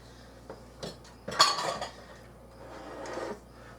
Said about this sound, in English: I'm going to scrape this out because I don't want to waste none of it